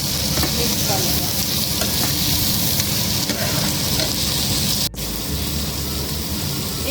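Paneer and coriander are stirred in a hot frying pan, giving a loud, continuous sizzle with a brief scraping knock of the utensil near the end; no one speaks.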